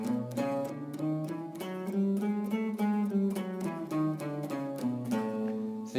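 Blues guitar running a bebop scale with Mixolydian colour notes, a continuous line of clear plucked notes picked one after another at an even pace, close and alone with no voices.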